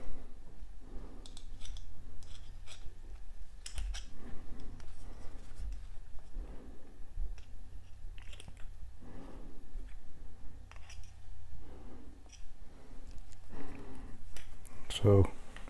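Small scissors snip cotton wick on a Boreas v2 vape atomizer from Augvape, giving a series of soft close clicks and snips spread across the stretch, with someone speaking quietly between them.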